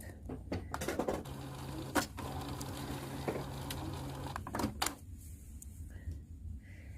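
An inkjet printer running a nozzle check, just powered back on after a screw was refitted, gives a close, steady mechanical whir with clicks and brief clunks of the moving print head.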